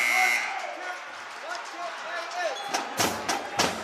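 A brief basketball buzzer tone ending the third quarter of a boys' varsity high school game sounds at the start over crowd noise and talk, followed by a few sharp thumps of a ball bouncing.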